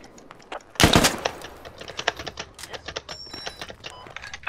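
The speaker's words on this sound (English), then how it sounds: "I can still hear M4s" M4 rifle fire in the military shooter game Squad: a loud close burst near the start, then a rapid scatter of sharper shots and clicks, some nearer and some farther off.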